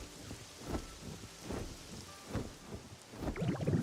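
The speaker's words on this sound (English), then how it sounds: "The fact that it's raining as well. This game likes it to rain a lot." Rain falls steadily in a building game while low thunder rumbles swell and fade several times, the downpour hissing continuously beneath the rolling booms.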